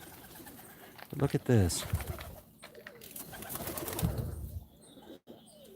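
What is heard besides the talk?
pigeons cooing in a pigeon coop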